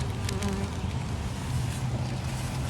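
Honey bees swarm around a busy hive entrance, giving a dense, continuous, fairly loud buzz with individual bees droning past close by.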